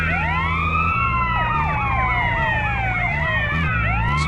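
An ambulance siren in Grand Theft Auto: San Andreas wails in overlapping rising and falling sweeps, loud and continuous over a steady low engine drone, with several siren tones layered together.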